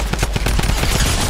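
Drum gun in Fortnite firing a fast, loud burst of rapid automatic shots, a dense continuous rattle with no talking.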